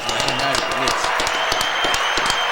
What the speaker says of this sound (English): Let's clap it up for the Knicks.